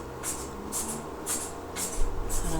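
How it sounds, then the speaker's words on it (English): Makeup setting spray comes from a pump bottle in several short bursts of hiss at an even, steady pace, with no talking in between. "So I'm spraying this."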